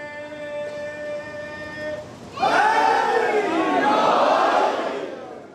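A congregation gathered for a Muharram majlis at an old imambargah in Sahiwal bursts into a loud, unified slogan shout. A steady held tone comes first, then the massed voices surge in and carry on to the end.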